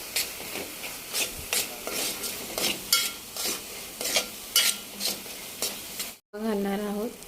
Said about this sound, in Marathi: हे पुन्हा व्यवस्थित हलवून घ्यायचं।